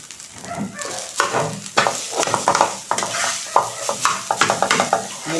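Tocino fries in a pan with onions and spring onion, a bright sizzle broken by repeated scraping and stirring strokes of a utensil against the pan, close and lively, with no talk.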